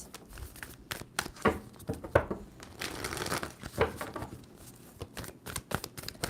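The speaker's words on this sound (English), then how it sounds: "Two more shuffles for Scorpio." A tarot deck being shuffled by hand in a quiet room, heard as a close series of papery riffles and crinkling card flutters that come in bursts.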